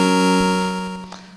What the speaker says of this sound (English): the very first sound you hear when you turn on the game